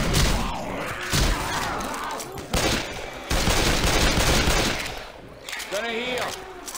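Rapid bursts of gunfire in the zombie shooter Left 4 Dead 2, loud and continuous across several seconds, with players shouting over the shooting.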